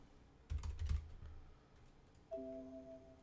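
Keystrokes on a computer keyboard as a password is entered: a short quick burst of soft clicks, faint and close, followed by a brief electronic tone.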